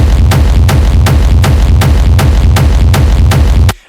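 Hard techno kick drum pounding in a steady four-on-the-floor pattern, about ten heavy distorted hits, loud and dense, then stopping abruptly.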